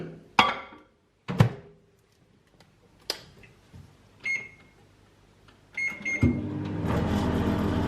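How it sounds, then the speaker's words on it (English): A microwave oven being loaded with 150 ml of egg white: sharp door and button thunks, two short beeps, then the steady hum of the oven running, close and clear. "and put it in the microwave."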